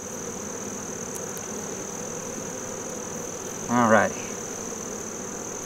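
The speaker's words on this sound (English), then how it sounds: "Oh, yellow jacket, get out of here." A yellow jacket wasp hums steadily beside an open beehive in autumn. The hum is sustained and mid-level under a constant high whine, and a short spoken remark rises over it near the end.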